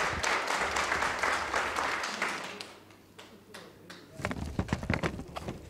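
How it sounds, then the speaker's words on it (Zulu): An audience claps for a few seconds in dense, loud applause that fades out, and then a voice begins talking alone. "cela shaya ihlombe"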